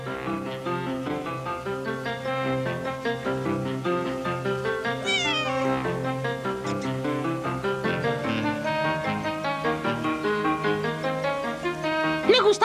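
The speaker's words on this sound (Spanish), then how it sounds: "Observaré a la mamá gata y a sus gatitos." A mother cat and her kittens meow repeatedly, close and fairly loud, over a steady tonal background.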